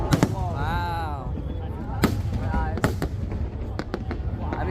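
Fireworks exploding at a July 4th drone and firework show in Boston, a series of sharp, loud bangs scattered unevenly with crackle between them, while people nearby react and talk.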